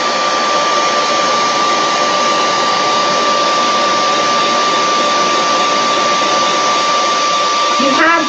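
A hair dryer blows steadily and loudly on a handmade craft bouquet, a constant whooshing hum with a faint whine, ending in a brief shift as the airflow moves near the close, with no talk over it.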